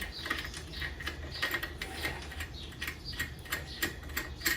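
A ratchet wrench tightens a nut on a gearbox during a vehicle build, producing rapid, even clicking in quick bursts up close, with no talking.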